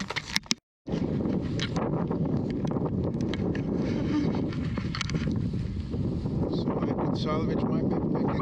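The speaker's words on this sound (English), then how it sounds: "But it shows how powerful the wind is from time to time." Powerful mountain wind roars continuously across a microphone on an alpine hike, a loud broadband buffeting that fills the clip after a brief dropout near the start.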